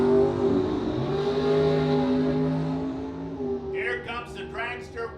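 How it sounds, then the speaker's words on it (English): A dragster and a door car launch side by side at a drag race, engines roaring loud and steady before rising into high revving bursts near the end, with people talking over it. "Here comes the dragster wheeling up on the door car."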